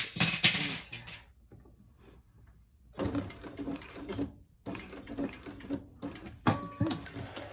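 A sewing machine back stitching through a cork tote bag, with short bursts of rapid mechanical whirring separated by pauses and a few small clicks, close and moderately loud.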